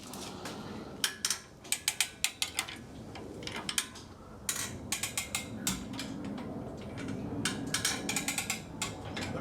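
Floor jack ratcheting as it is pumped to raise a K5 Blazer body off the chassis, with sharp clicking bursts in uneven clusters and quieter mechanical creaks between them, close by.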